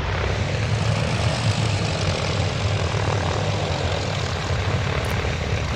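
An Ercoupe 415-C light propeller plane in X-Plane, its engine running with a steady, even drone at constant loudness throughout, without pauses or changes in pitch.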